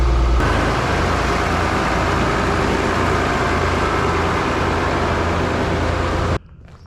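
A tractor engine left unused since October idles at a steady, loud, low rumble close by, running continuously before cutting off abruptly near the end.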